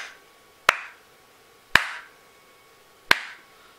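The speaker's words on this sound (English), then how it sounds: "When we clap" Three separate hand claps ring out near a sound sensor module, each a sharp, close crack followed by a brief decay, evenly spaced about a second apart in a quiet room.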